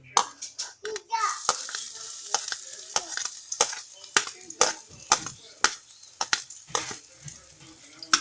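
Garlic frying in a hot pan for chicken empanada filling, a low sizzle broken by repeated sharp scraping and stirring knocks in an uneven rhythm, close and moderately loud.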